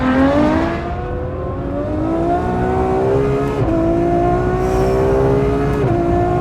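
A Ferrari GT car with a 6.3-litre, 740 hp engine accelerates hard, its engine note climbing steadily through the gears with brief dips at each shift, loud and close throughout.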